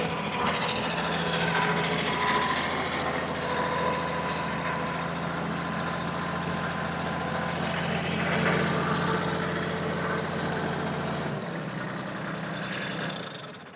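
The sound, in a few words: tractor engine running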